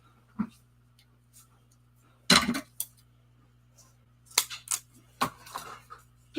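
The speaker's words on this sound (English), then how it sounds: "I'd have to have another pair of scissors that aren't as sticky." Sticky scissors snip in a few scattered, crisp bursts against a low steady hum, close and fairly quiet, with long gaps between the cuts.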